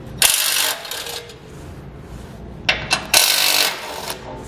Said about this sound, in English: We'll remove those with a 16mm socket.